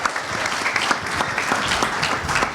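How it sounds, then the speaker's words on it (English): An audience at a B2B sales event claps as a personal coach is welcomed up to the stage, a short burst of steady, close clapping with no talk over it. "Round of applause."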